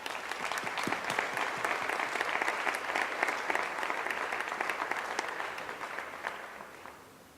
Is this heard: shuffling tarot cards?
no